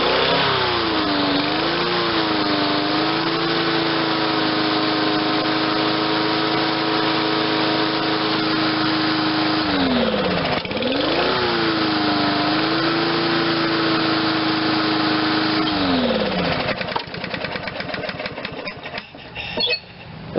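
An MTD 22-inch lawn mower engine runs steadily and loudly close by, its pitch sagging and recovering as the throttle is let off and picked back up, then surging unevenly near the end.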